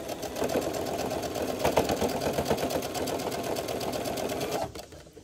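A sewing machine stitches puff quilt squares with a fast, steady rattling run of needle strokes at close range, then stops abruptly near the end.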